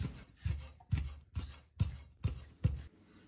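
Knife slicing small chili peppers into thin rings on a cutting board, seven evenly spaced crisp cuts in a slow, regular rhythm, close and fairly quiet.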